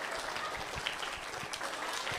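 A faint, distant audience at a children's storytelling event claps in an even, continuous patter for a short round of applause.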